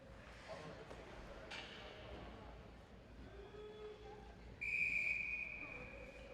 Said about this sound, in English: The officials didn't want to blow the whistle because there wasn't anyone around to begin with, but then Austin Rand came flying in